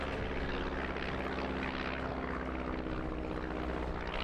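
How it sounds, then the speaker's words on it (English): A propeller aircraft rolls and loops overhead at an outdoor air display, its engine a loud, steady, unbroken drone with a rough buzzing edge and no voices over it. "Rolling and looping an aircraft there."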